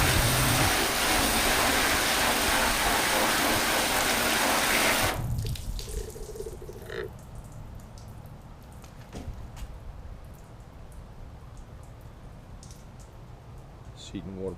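Rinse water hisses steadily as it sheets off sealant-coated car paint, loud and continuous for about five seconds before cutting off, leaving a quiet background with light drips.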